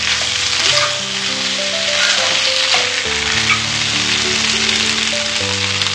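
Potatoes with cumin and green chili fry in a pan for jeera aloo, filling the clip with a loud, dense sizzle like steady rain, while faint music plays underneath and nobody speaks.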